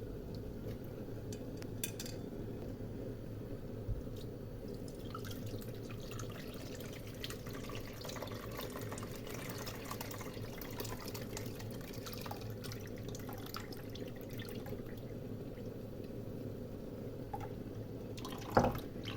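Cold-pressed sour cherry juice is strained away from the pits. A steady close trickle and drip of liquid runs continuously, with occasional light clinks of kitchenware and no talking.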